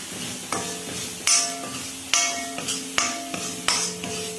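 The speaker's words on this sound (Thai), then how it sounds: "ก็จะใส่คอเรนเดอร์พาวเดอร์ค่ะ ก็คือผงผักชีนั่นเอง ก็ผัดผัด" Onions with coriander powder are stir-fried in a pan, a spatula scraping and knocking the metal in irregular strokes over a soft sizzle, close and without talk.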